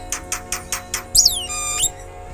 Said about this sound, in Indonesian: Mengagetkan sekali ini burung.